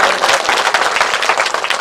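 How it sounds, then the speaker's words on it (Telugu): A crowd of devotees at an Anjaneya Swamy temple gathering clapping together, a dense, loud, continuous round of applause heard up close. "ఒప్పుకుని అందరూ చప్పట్లు కొట్టండి"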